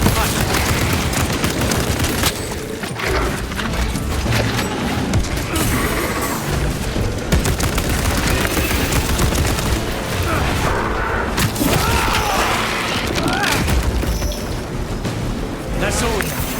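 Grenade blasts and heavy gunfire in the co-op shooter Warhammer 40,000: Space Marine 2, a loud, unbroken barrage of shots and booms that fills the whole stretch, with voices mixed into the din.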